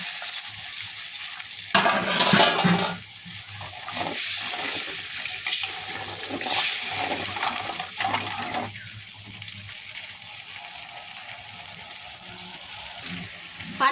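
Water poured into a pan of fried spice paste makes splashing rushes around the second and seventh seconds, then a quieter bubbling simmer with soft stirring sounds between the pours.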